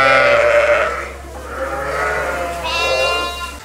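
Ewes on a farm bleating, several wavering, harmonic calls overlapping one after another, fairly close, with a steady low hum underneath and no talking.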